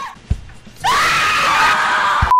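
A man gives one long, loud, sustained scream of about a second and a half that starts abruptly and cuts off sharply, with brief quiet noises before and after it.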